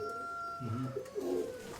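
Soft, low cooing of pigeons, a couple of short throaty calls close by against a quiet background hum.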